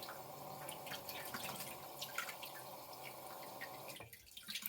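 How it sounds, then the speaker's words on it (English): Tap water rinses a shaving brush, a faint, steady splashing hiss with small drips throughout, cutting off abruptly near the end. "rinse off my brush real quick"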